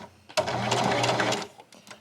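A sewing machine sews a patch, running in one steady, close, fairly loud burst of just over a second, with quiet room tone before and after.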